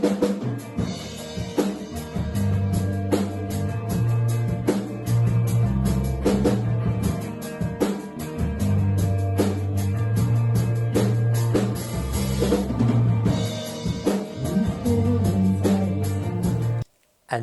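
Band rehearsal-room recording with a bass line under a full drum kit, dense and continuous for about seventeen seconds before cutting off abruptly.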